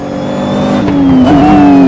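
An older GT3 race car in a racing video game revs hard and climbs steadily in pitch, with a brief dip at a gear change, loud and close with no voices.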